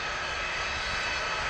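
A light propeller airplane engine drones steadily and loudly at close range, a constant broadband roar with no break across the short stretch.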